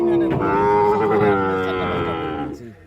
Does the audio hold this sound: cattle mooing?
yes